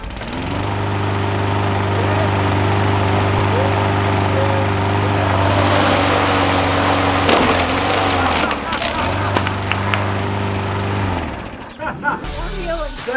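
A lawn mower engine drones loudly and steadily, briefly revving and sputtering as it runs into oobleck, then cuts out near the end.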